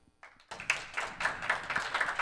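A small group of studio guests claps together in a vote, a dense run of hand claps starting abruptly and continuing steadily at close range.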